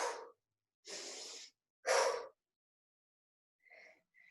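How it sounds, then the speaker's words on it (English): Forceful breaths during a bodyweight endurance workout: three strong, close exhales in a row, the last the loudest, followed by softer, shorter breath sounds after a pause. "Big exhale to come to the top."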